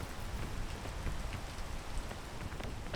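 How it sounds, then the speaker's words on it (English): Steady rain falling in a video game, a dense, even hiss of drops on surfaces, continuous and moderately loud with no talking. "I'll do that once the rain stops."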